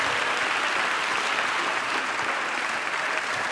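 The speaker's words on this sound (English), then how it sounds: "Give them a round of applause." An audience at a community event breaks into full, even applause, a thick continuous patter of many hands that stays steady and loud throughout.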